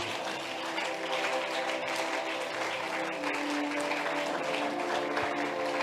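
Church congregation applauding, steady continuous clapping from many people over a sustained musical backdrop, moderately loud throughout.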